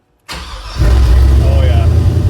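An LS swap engine cranks on its first start, a sudden starter whir that catches and settles into a loud, steady, deep idle close by.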